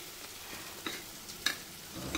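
Tomatoes added to sautéed ginger and garlic sizzle softly in a pan, with a few sharp clinks and scrapes of stirring against a steady low frying hiss.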